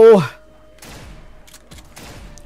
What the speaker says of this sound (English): Dude, this shotgun's still a one-shot, and it isn't even upgraded.